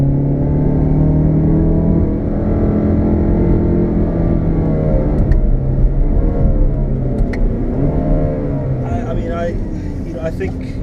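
Inside a 2016 Chevrolet Camaro 2LT with an 8-speed automatic, the engine hums and swells on the downshift, its note sliding through pitch changes. Voices talk over the sound throughout.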